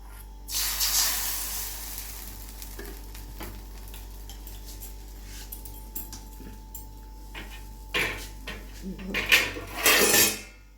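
A ladle of rice-flour batter for dudh chitoi pitha goes into a hot iron kadai and sizzles, loud in a burst near the start and again in stronger bursts toward the end, with faint stirring and clinking between.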